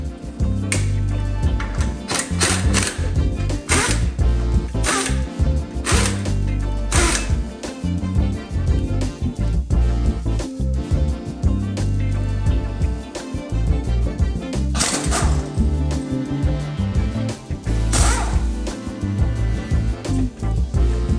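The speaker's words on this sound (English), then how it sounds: "Always finger tighten your lug nuts before you impact them on" An impact wrench tightens lug nuts on a Tesla wheel during a winter tire swap, with loud, close bursts of rattling, ratcheting hammering that repeat through a long stretch without talk.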